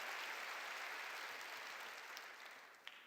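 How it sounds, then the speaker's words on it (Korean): A church congregation at a year-end worship service claps together, a steady wash of applause that fades gradually near the end, heard at a distance and at low level. "박수로 하나님께 영광 돌려."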